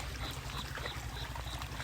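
Water runs steadily across a flooded rice paddy after heavy rain, a low continuous gurgling pour with a faint rhythmic churn, moderately distant and fairly quiet, with no voices.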